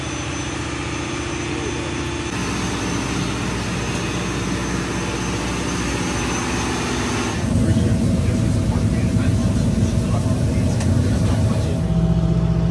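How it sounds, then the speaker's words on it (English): A large ship engine drones loudly and steadily nearby, its deep hum shifting in tone a couple of times as the running continues. "That's an engine right there."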